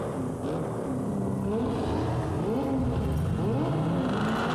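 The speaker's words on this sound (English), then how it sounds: "Start your engines, folks." Car engines in the video game Cyberpunk 2077 rev and rise in pitch in repeated waves at a race start, loud and continuous with a steady droning bed underneath and no speech.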